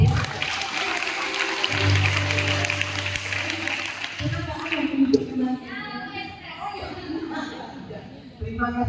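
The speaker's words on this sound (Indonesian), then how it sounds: "Tepuk tangan saya." An audience at a church leadership event in Batam applauds in a sustained, fairly loud wash of clapping while a hum and voices run underneath and speech emerges later.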